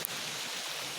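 Steady rain falling through a forest, a dense, even wash of patter and hiss that stays constant and close for the whole second, with no voices over it.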